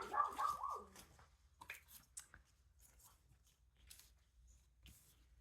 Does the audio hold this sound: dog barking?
yes